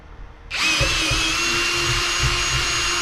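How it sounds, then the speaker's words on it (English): A 5/16 inch drill bit driven through pipe for dome cover jigs: the power drill starts abruptly after a short quiet moment, then whines loudly and steadily, close up. "then use your 5/16 inch drill to drill through"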